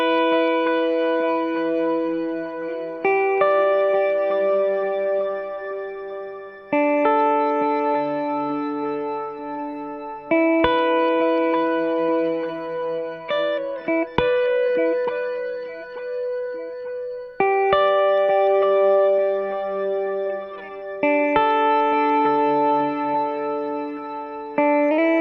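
Guitar played through a Physics pedal for a weird, icy tone: sustained chords ringing with shimmering, chorus-like wavering and echoing tails, changing every few seconds in a steady, loud, unbroken wash.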